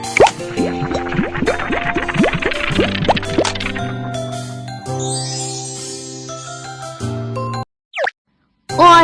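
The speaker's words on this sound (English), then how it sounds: "Mix the ingredients first." Cartoon stirring and mixing effects from a kids' cooking video game set in a baby panda's summer cafe, with bouncy boings, plops and tinkles over a bright looping music bed, ending in a few brief squishy blips.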